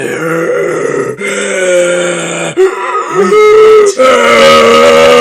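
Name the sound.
imitated heavy breathing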